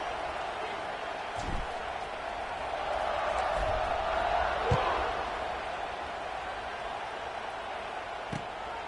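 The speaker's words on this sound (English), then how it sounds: "this crowd is feeling themselves after that last drive" Stadium crowd at a football video game in the 2K series, a steady broad roar swelling in the middle with a few thumps, heard at moderate distance and continuous throughout.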